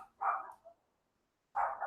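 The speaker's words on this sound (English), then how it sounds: "Hold on, she's barking." A female dog barks outdoors, two close, loud barks separated by a short pause, with a faint yip between them.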